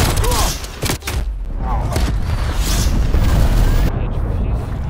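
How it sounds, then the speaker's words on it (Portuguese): Loud boom from an enemy cruise missile strike in Call of Duty: Black Ops Cold War, with dense rumbling blasts and debris filling the clip alongside game voice callouts. "Lançamento de míssil cruzador inimigo detectado."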